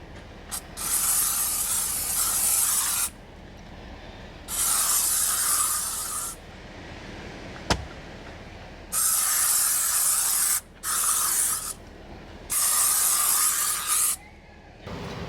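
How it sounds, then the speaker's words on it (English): A bug spray aerosol can hisses in several long sprays of a few seconds each, separated by short pauses and a sharp click, close and steady. "I'm gonna spray myself with bug spray."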